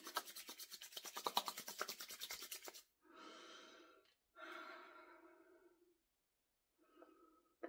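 Oil rubbed between the palms to warm it before skincare, a soft close swishing friction in two short bursts, followed by audible slow breathing in a quiet room.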